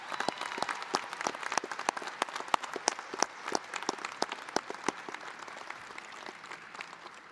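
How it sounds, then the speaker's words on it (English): Sustained applause from a sizable crowd at a law school commencement, dense clapping at steady volume that gradually thins toward the end, with no voices over it. "Let's give another round of applause to the family and friends gathered here today."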